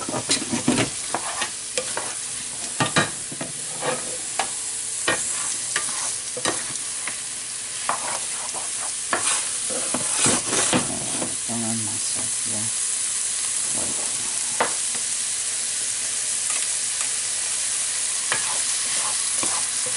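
Sliced mushrooms fry in a hot pan for beef stroganoff, a steady close sizzle running throughout with frequent scraping and clinking from a utensil stirring them.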